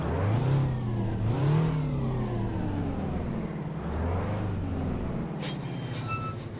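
A Peterbilt 359 truck engine in American Truck Simulator starts and revs in two or three strong swells, then settles into a steady diesel rumble, with a few faint clicks and chimes near the end.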